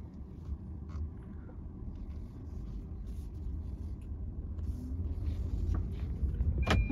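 A Tata Nexon EV electric car shifting from neutral into drive and pulling away, with a steady low rumble of road and cabin noise that swells gradually as it gains speed, no talking.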